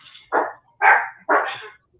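A dog barks three times in close succession, each bark loud and near, with short quiet gaps between and no talking.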